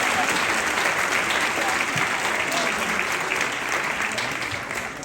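An audience claps loudly and steadily for students at a school ceremony, a dense wash of applause that fades slightly toward the end.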